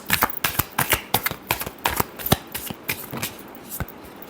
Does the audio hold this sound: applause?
no